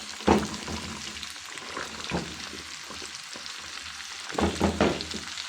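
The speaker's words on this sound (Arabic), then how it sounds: "هقلب الخضار ده، هخليه ياخد تشويحة مع البصل في الطاسة" Mixed vegetables (carrot, green beans, zucchini, potato and green pepper) stir-fry with onion in a pan, a soft sizzle broken by several bursts of scraping and tossing as they are turned, with no voices.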